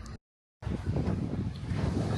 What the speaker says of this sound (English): So hope you can hear me over the waves.